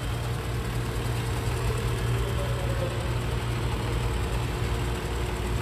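A V6 engine in a 2021 Toyota Highlander LE AWD idles steadily, a continuous low hum with faint vibration and no voices.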